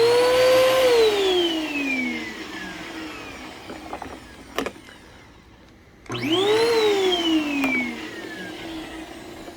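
A Bissell PowerForce Helix vacuum cleaner, clogged, whines loudly as its motor spins up and winds down with falling pitch, then starts up again after a quiet gap with a few clicks in between.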